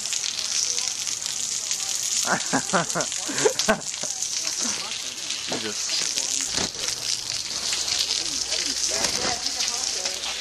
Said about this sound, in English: It's pretty intensely raining.